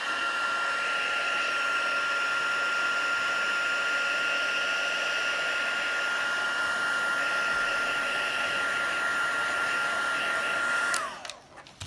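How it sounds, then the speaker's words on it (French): A heat gun blows steadily and loudly for about eleven seconds, drying a butterfly card painted with Brusho, with a constant high whine over airy rush before it switches off and winds down abruptly. "Je vais remettre un petit coup de pistolet."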